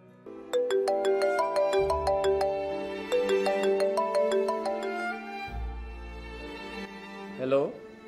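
A telephone ringtone plays a bright repeating electronic melody in short looping phrases, loud and close, fading out into a brief pitch sweep at the end.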